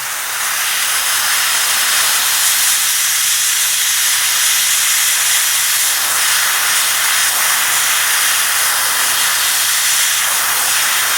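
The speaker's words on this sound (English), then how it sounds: "Here's just the plastic model just getting painted." Steady continuous hiss of spray paint (XF60) being applied to a plastic Tamiya King Tiger tank model kit, loud and close, uninterrupted for the whole stretch with no voices.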